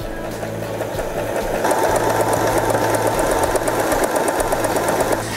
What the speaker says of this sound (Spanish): esta costura elastizada va hacia atrás y adelante